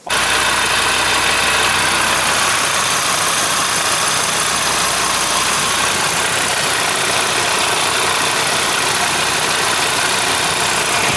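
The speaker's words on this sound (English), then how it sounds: "We're going to start the car up now, let the oil circulate, then check the dipstick again." An Audi RS3 engine idles steadily right after an oil change, a constant loud rumbling drone with broadband hiss that holds unchanged throughout, close by and with no talking.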